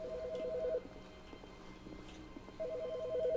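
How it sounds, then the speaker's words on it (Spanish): A telephone rings in The Stanley Parable, a repeating electronic double-tone burst sounding at the start and again near the end with a quiet ambient pause between. "¿Por qué suena un teléfono?"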